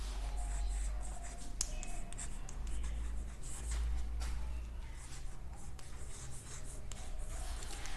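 Someone writes a sentence on a board, with scratchy strokes and sharp taps as letters are formed, continuing steadily and up close with no talking.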